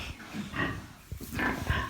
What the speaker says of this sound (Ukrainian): Е, свинка наша.